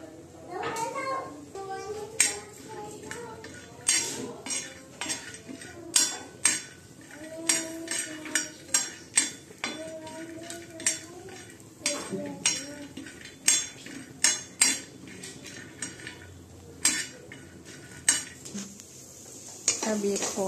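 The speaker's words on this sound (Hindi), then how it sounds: "हम ड्राई फ्रूट्स को थोड़ा सा ड्राई रोस्ट कर लेंगे, थोड़ा बस कलर आने तक ड्राई रोस्ट करेंगे" Dry fruits being dry roasted in a pan, with frequent sharp clinks and scrapes of a utensil against the cookware, close and fairly loud over a soft background.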